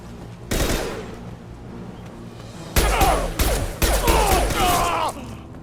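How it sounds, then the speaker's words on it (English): Heavy bursts of weapon fire and impacts from the concussive shot ability in Mass Effect 2 on PS5, one loud blast followed by a cluster of loud explosive shots near the end. "Concussive shot ready."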